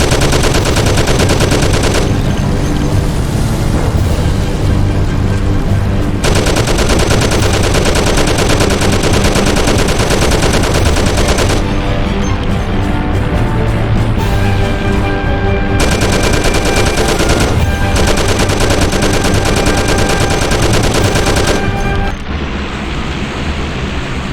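Sustained, loud bursts of automatic gunfire in the video game Mafia: The City of Lost Heaven, dense rapid shots pounding almost without pause, with brief shifts in intensity and a sudden drop near the end.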